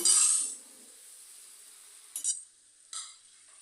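A spatula stirs spinach and vegetables coated in cumin and coriander powder in a kadai, a quiet scrape at first, then two sharp metallic clinks against the pan.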